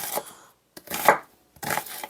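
Knife chopping radish into cubes on a cutting board in three separate bursts of quick, close cuts with short pauses between them.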